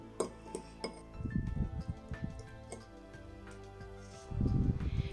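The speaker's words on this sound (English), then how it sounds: "mix all the ingredients very well" Ingredients stirred with a tablespoon of alcohol in a small container for a homemade vein remedy, with clinks of a utensil and rhythmic scraping and sloshing bursts, close and moderately loud, without speech.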